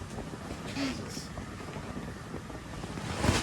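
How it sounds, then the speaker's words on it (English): Wind buffets the microphone with a constant rough rumble and gusty roar, steady throughout, with no other distinct sounds. "it's windy as hell"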